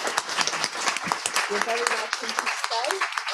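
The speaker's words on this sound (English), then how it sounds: "Let's have a clap." An audience at a Board of Deputies plenary meeting claps in a steady patter throughout, with people talking over the applause.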